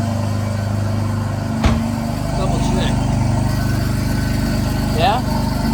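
A high-mileage BMW M4 engine idles steadily at close range, a low even hum with a brief knock partway through and faint voices over it.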